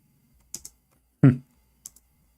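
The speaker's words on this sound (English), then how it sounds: "I'm typing in English again" A few scattered keystrokes click on a computer keyboard, close and sparse, broken by a brief low vocal sound in the middle of an otherwise quiet room.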